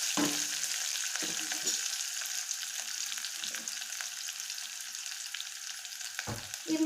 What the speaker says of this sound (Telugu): ఎండుమిర్చి, అది వేసి బాగా కొద్దిగా ఫ్రై చేయాలి.